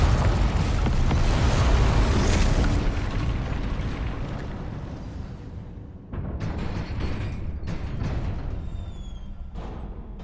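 A Confringo explosion spell in Hogwarts Legacy erupts into a loud, rumbling blast that fades over several seconds, followed by smaller crackling bursts and debris-like pops.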